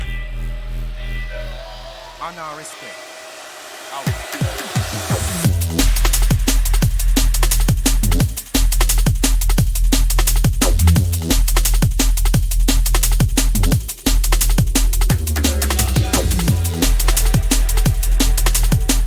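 A heavy drum and bass remix drop: after a brief rising buildup with a short vocal sample, dense, loud breakbeat drums hammer over a deep, sustained sub-bass and distorted bass tones, continuous and overpowering.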